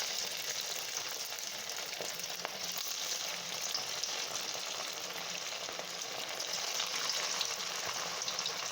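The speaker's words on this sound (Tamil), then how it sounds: "இப்போ ஆயில் ஹீட் ஆகிட்டு இப்போ நம்ம தட்டி வச்சுருக்கிற வடையை நம்ம சேர்த்துக்கலாம்." Chili chicken vadai fry in hot oil on medium flame, giving a steady, even sizzle that runs throughout, close and moderately loud with no speech over it.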